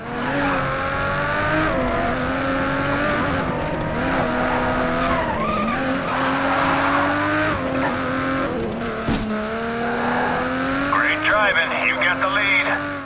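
Race car engine and squealing tires from Race Driver: Grid, a continuous loud drone of engine and skidding that keeps shifting in pitch through the stretch, with bursts of tire screech near the end.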